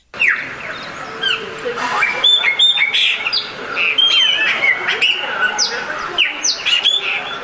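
A chopi blackbird (graúna) sings loudly and close, a varied run of whistles, squawks and chirps in quick bursts, with faint other birds behind it.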